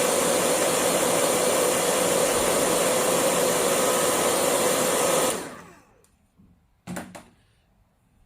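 A hair dryer blows steadily and loudly on a Chinese ink painting for about five seconds, then switches off and winds down, followed by a brief soft knock in the quiet.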